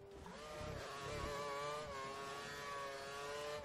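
Race car engine in an Xbox 360 racing game held at full revs, a steady high-pitched whine with stacked harmonics that rise and dip slightly, continuous and fairly loud with no talk over it.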